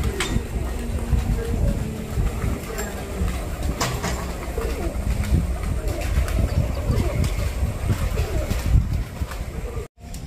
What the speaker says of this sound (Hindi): उमर भाई जरा ना कबूतरों दाना पानी करा रहे हैं।